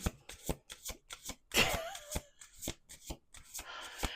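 Playing cards are shuffled up close in quick, riffling bursts, with short pauses and soft taps between each pass.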